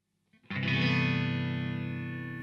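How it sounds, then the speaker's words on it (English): Electric guitar played through an amplifier and picked up by both a close mic and a room mic, with a single sustained distorted chord ringing out loud and full after a brief quiet start, wide and washed with effects. "I've got a close mic on the guitar amp and a room on the guitar amp there as well. So let's listen to the guitar sound here."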